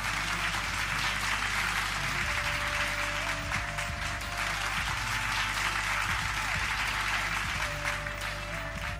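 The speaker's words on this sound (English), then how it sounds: "Give him a round of applause." Applause for a young karate student who has just earned an orange belt at a school annual day event, steady and sustained throughout, mixed with a sustained musical tone and low background hum.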